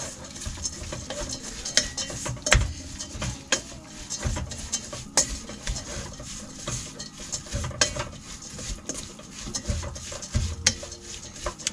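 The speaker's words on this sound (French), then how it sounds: "c'est tourner et mélanger" A spoon stirs harira, Moroccan soup, in a pot, with repeated scraping and clinking against the metal and a soft sizzle underneath, close and steady.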